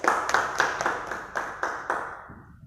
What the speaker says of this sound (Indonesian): ya terima kasih tepuk tangannya